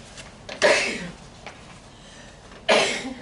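Two loud, abrupt sneezes about two seconds apart, close by, over a quiet room background during a board meeting.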